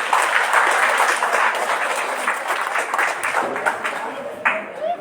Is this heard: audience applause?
yes